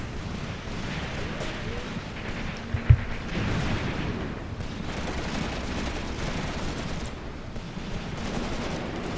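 Distant WW2 battle gunfire in Graviteam Tactics, a muffled rumble of artillery and rifle shots with one sharp close crack early on, set under continuous talking.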